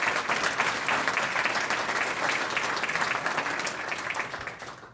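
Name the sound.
audience applause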